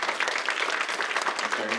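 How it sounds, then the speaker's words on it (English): A brief burst of audience applause for panelists at a discussion event, a dense, even patter of many hands clapping at moderate level. "let's give our panelists a round of applause"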